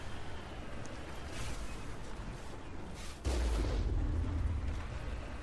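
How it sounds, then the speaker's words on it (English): An explosion blows up the top of a tower in the video game Mass Effect, a deep rumbling blast that swells suddenly and rolls on amid ongoing combat noise. "I like just blowing up the whole top of the tower."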